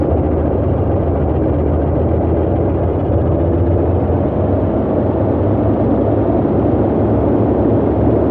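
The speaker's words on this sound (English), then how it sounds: "Let's get her up to get her spun up on the engines, let them stabilize" The engines of a Boeing 247D aircraft spin up, giving a loud, continuous low rumbling drone that holds steady throughout, close by and with no voices.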